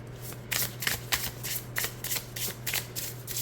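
Repeated crisp riffling bursts of tarot cards being side-shuffled, about eight quick flurries in a steady rhythm, close up, with a low steady hum underneath.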